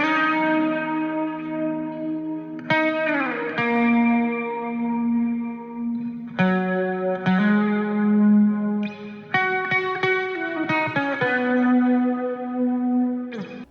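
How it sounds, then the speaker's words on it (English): A clean electric guitar plays a slow, mellow melody with echo and chorus effects, notes ringing and sustaining one after another. "this is what the guitar sounds like"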